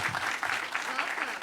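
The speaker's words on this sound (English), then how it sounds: "Big round of applause for the CISO of Convera, Sarah Madden." Lively audience applause at a live cybersecurity show at B-Sides in San Francisco, a loud, rolling burst of clapping with a voice speaking over the crowd.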